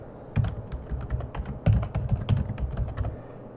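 Someone types an email address and password on a computer keyboard: a quick, uneven run of close, crisp keystrokes over a few seconds, with no talk.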